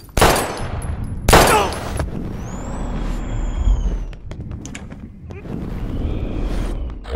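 Gunshots in the video game Life is Strange, two loud sharp reports early on followed by lingering game ambience and a high electronic tone, with some voice in the background.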